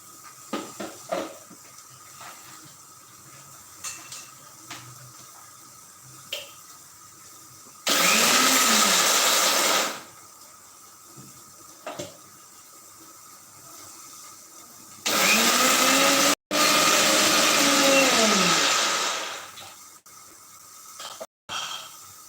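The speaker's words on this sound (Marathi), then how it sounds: "त्यात आपली पांढरी तीळ घालून तिचे थोडंसं जाडसर असं पावडर करायचं एकदम बारीक करायचं नाही" A mixer grinder whirs through white sesame seeds with roasted peanuts and coconut, grinding them to a coarse powder. It runs in two loud, steady bursts, one short and one longer, with faint kitchen clatter between them.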